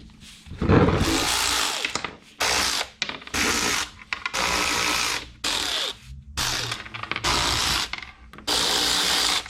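Power sander working a two-piece centre gauge mold for a Subaru Forester, loud close buzzing in repeated bursts of one to two seconds with short gaps, no talk.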